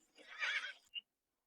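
A horse pulling a cart gives a short, close whinny lasting about half a second, followed by a single faint clop before silence.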